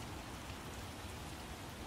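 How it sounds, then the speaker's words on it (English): Heavy rain pours in The Witcher video game as a dense, steady, even hiss of falling water that fills the whole scene. There is no talk. "What a downpour."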